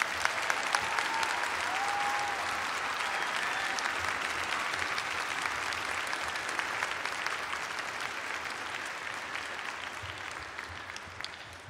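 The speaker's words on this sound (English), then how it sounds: "May we please give them another round of applause." An audience claps steadily after a stage performance, with dense, even applause holding at a moderate level throughout without fading.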